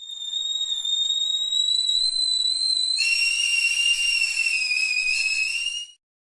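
A person whistles a sustained, steady high tone, then shifts to a slightly lower, richer pitch partway through before stopping abruptly; no talking.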